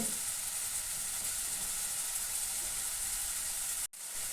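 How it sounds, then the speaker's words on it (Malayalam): Curry leaves crackle and sizzle in hot oil in a pan while an egg gravy for chapati is being cooked, a steady, loud broadband frying hiss that runs unbroken, then cuts off abruptly near the end. "നമ്മൾ കുറച്ച് കറിവേപ്പിലിട്ട് കൊടുക്കുന്നുണ്ട്."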